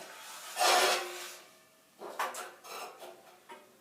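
A manual tile cutter (carrelette) scores a tile with one loud scraping pass, followed by several shorter, fainter rasping strokes and knocks, close by and with no talk.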